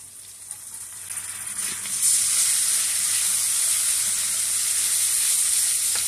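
Spices and coconut paste sizzle steadily in a hot pan for kachur loti curry, a continuous broad frying hiss that swells louder after the first couple of seconds, with no voices over it.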